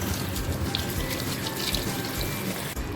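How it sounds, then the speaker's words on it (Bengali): Chopped vegetables are rinsed under a running tap, with a steady rush of water splashing into a sink close by and no talking. "সমস্ত সবজি কাটার পর সবজিগুলোকে ভালো করে আমি ধুয়ে নেব"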